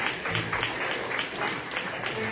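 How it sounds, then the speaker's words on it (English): A crowd claps for Hall of Fame inductees at a concertina jam session, producing brief, fairly loud and steady applause with a voice mixed in. "So everybody, big congratulations, applause for all of them."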